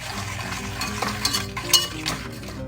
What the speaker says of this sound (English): Stir all this up really well and make sure it's well amalgamated.